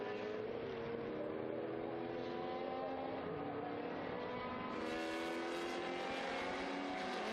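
Historic race cars, a Lola T70 and a McLaren, roar past at Estoril with a steady, dense engine drone that swells slightly toward the end, heard at some distance without talk.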